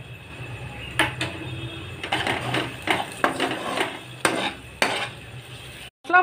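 Spice paste fries in oil while a spoon repeatedly scrapes and knocks against the pan, giving irregular sharp clatters over a soft sizzle, ending in a brief silence and one last stir.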